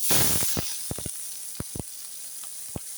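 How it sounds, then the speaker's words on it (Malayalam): Chopped capsicum, onion, garlic and ginger hit hot oil, bursting into a loud hiss that quickly settles into a softer sizzle punctuated by sharp spatters and pops scattered through the rest. "എണ്ണ ഇതാ ചൂടായിട്ടുണ്ട് ഇനി നമുക്ക് നമ്മൾ അരിഞ്ഞു വെച്ചേക്കുന്ന ക്യാപ്സിക്കും ഉള്ളി സവാളയും വെളുത്തുള്ളി ഇഞ്ചിയൊക്കെ ഇതായി ഈ എണ്ണയിലോട്ട് ഇടാം"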